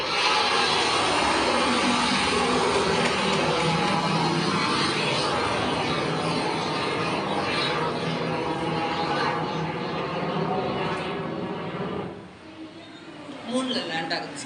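Model rocket launch at a school science exhibition: a broad, loud rushing roar that holds steady for about twelve seconds before dropping away, with scattered crowd noise at the end.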